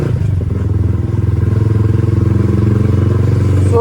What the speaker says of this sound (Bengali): তো ওখানে বাইক চালাচ্ছি